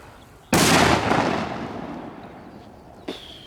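A firework fountain goes off in a sudden loud whooshing burst that slowly fades into a hissing tail, followed by a sharper pop near the end.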